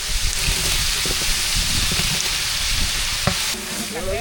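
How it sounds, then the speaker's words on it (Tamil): Onion sauteing in a hot pan with salt added, a steady dense sizzle with scraping stir strokes throughout, close and loud with no talking. "சூடாக வெங்காயம் சேர்த்துக்கலாம் வெங்காயம் நல்லா வதங்குறதுக்கு உப்பு சேர்த்துக்கலாம்"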